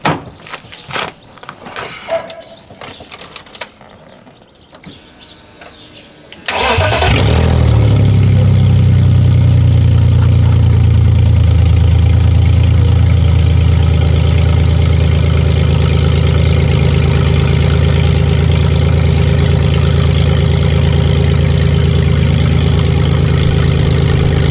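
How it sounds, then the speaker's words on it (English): After a few seconds of quiet shuffling and clicks, a BMW E46 engine fitted with only headers and no exhaust cranks and fires into a loud, raw, rumbling idle that holds steady and close for the rest of the clip. "So now it's time to do that obligatory YouTube startup with just headers"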